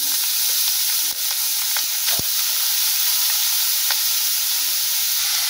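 Pointed gourd (potol) hits hot spiced oil and fries with a steady, loud sizzle and crackle that runs unbroken, with a few sharp pops and faint stirring clicks throughout.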